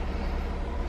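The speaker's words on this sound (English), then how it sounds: "I love the sound of the cars just going by." Cars driving by on a road, a continuous broadband traffic rumble at moderate level with no clear individual pass, heard alone without talk.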